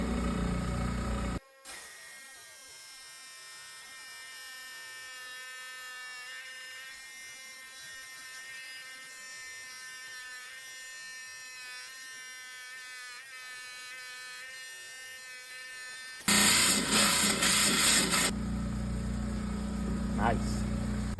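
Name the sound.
10-inch rock saw cutting picture jasper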